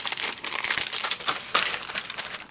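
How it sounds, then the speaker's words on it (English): Packaging around a Spellbinders card kit of thick chipboard frames is opened, giving close, steady crinkling and crackling with a few sharper crunches and no voice. "I'll just open it up so you can kind of have an idea."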